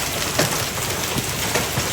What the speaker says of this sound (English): Terrible hailstorm here.